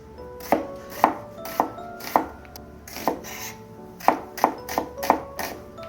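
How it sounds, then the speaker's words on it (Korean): Onion being chopped with a knife on a cutting board for a beef rice bowl, about a dozen crisp close thuds in an uneven rhythm with short pauses, alone without talk. "양파를 썰어 놓고요."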